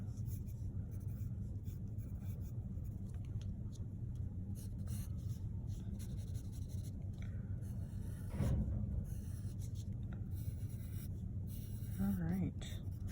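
Pencil scratches and scrapes across paper while a shoe is sketched, faint and intermittent, in light strokes under a low constant background rumble.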